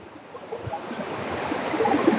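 Stream water flows steadily near an old British-built bridge on a Kerala estate, making a continuous rushing, bubbling wash that swells slightly louder toward the end, with no voices.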